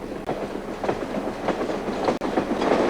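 A train rolling along the rails, heard as a steady rumbling roar with rhythmic wheel clatter and a couple of sharp joint clicks, loud and close, with no talking.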